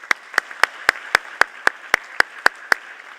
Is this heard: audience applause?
yes